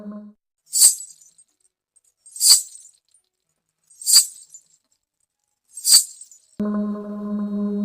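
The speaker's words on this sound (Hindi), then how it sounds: "तभी अचानक पायल की आवाज।" Four separate bursts of small bells jingle at a regular pace with silence between them, then a low steady hum begins.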